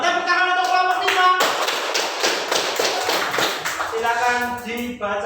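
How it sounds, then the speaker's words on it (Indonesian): Children clap together for group 5 in a classroom, a dense patter of hand claps that swells in the middle and tapers off, with voices talking over it at the start and end. "Tepuk tangan untuk kelompok 5."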